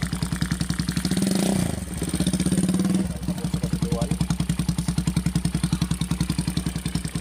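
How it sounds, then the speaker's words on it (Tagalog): A small engine chugs close by with a rapid, regular putter, revving up twice before settling back into a steady idle. "Ayun, umaandar na yung ating makina."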